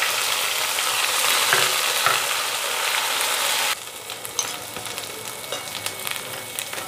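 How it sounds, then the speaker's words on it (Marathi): Ground masala dropped into hot oil, sizzling loudly and steadily before the sound abruptly thins to a quieter crackle with a few sharp pops, and no one speaks. "आपण हा बारीक केलेला मसाला तेलामध्ये टाकूया"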